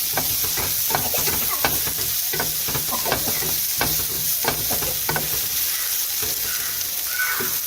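Onions with salt sauté in a pan for a mushroom thoran, a steady sizzle running throughout with regular scraping stirs of the spoon against the pan.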